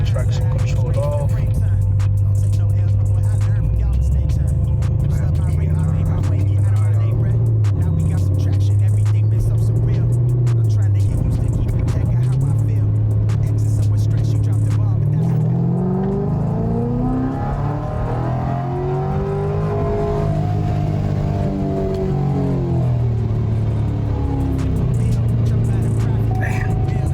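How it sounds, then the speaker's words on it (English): A sport-mode car engine with traction control off revs hard through a third gear dyno pull, a loud sustained roar with rising and falling pitch sweeps that climb steadily toward the end, continuous throughout. "I'm about to do another third gear pull"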